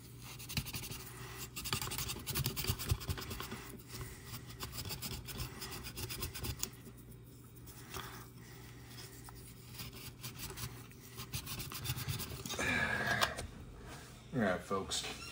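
A Scotch-Brite pad scrubs back and forth over corroded N64 cartridge contacts, producing a steady close scratchy rasping with irregular strokes and a few louder rubs near the end; no one talks over it.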